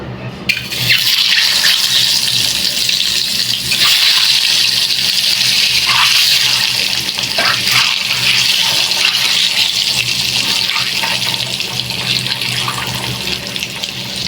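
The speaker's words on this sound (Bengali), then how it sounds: "ডিমটা আমি এখন বেজে নেব" An egg fries in hot oil with salt and turmeric powder for Bengali egg bhuna. A loud, unbroken hiss starts abruptly and holds steady at close range, with no talking.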